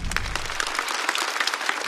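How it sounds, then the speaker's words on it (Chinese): A theater audience at a stand-up comedy show breaks into loud, dense applause, a continuous wash of clapping that holds steady and close for under two seconds with no talking. "再次掌声送给"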